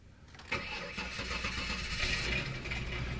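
Car engine with an old, discharged battery at 9.9 volts, jump-started with a Noco Genius Boost GB30, cranks briefly and fires up, settling into a steady idle close by.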